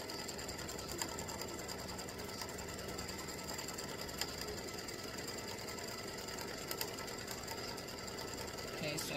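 An embroidery machine sews an appliqué placement stitch for a baseball design, holding a continuous rapid mechanical whir and needle rattle at a steady level throughout, close by and uninterrupted by talk.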